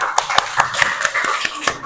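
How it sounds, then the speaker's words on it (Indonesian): Classroom group clapping in a chemistry lesson, a short burst of fairly loud, quick claps in an irregular rhythm, close and alone. "Kasih tepuk tangan."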